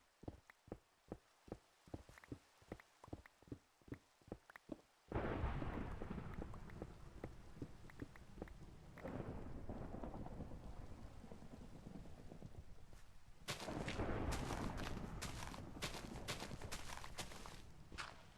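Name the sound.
thunderstorm with thunder and rain in Minecraft, a video game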